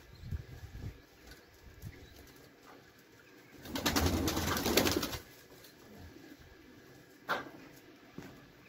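Young tumbler pigeon squabs in a coop coo softly, with a louder burst of wing flapping and cooing in the middle and a brief flutter near the end, all close by with no talking.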